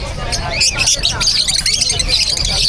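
Birds chirp and squawk in a dense, continuous chorus at a busy Friday pet market in Bocaue, mixed with steady crowd babble and background hubbub.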